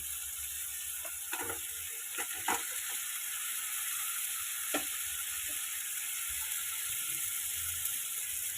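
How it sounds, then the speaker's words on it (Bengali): Fish heads, already fried, sizzle steadily in hot oil with spices over a high gas flame, with scattered scraping stirs and soft clicks of a spatula against the pan. "মশলাটার সঙ্গে মাথাটা ভালো করে এবার আমি কষিয়ে নিচ্ছি"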